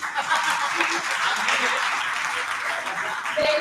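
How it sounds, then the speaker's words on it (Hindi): Loud, sustained applause from the audience at a two-day national seminar honouring the teachers present, many hands clapping densely and evenly throughout. "तो उनके लिए एक जोरदार ताली।"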